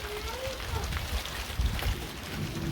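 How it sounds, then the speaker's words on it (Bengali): Rain falls steadily in a village, a continuous broadband patter close by, while people talk over it. "মামনি রেডি হয়ে বসে রয়েছে কিন্তু বৃষ্টি নামছে আমাদের এদিকে"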